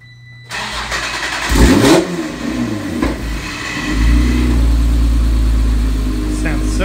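A car engine cranks and catches, flares up in a loud rev, then settles into a rough, steady idle that swells again, all close and loud; the car is in a shop mid paint job.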